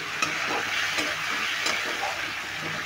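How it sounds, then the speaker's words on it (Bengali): Ground cumin and coriander are stirred in a frying pan for a Bengali vegetarian curry, a close sizzling hiss with soft scraping strokes and a few sharp utensil taps against the pan. "এবার মশলাগুলো আমি ভালো করে নেড়ে নেব"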